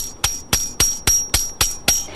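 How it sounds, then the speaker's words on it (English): A steel Sapmeister hammer drives a metal spile into a tree trunk for sap tapping: eight sharp, evenly spaced metallic strikes about a quarter second apart, close and loud, with no talk. "And then I'll just hammer the rest of the way into the tree."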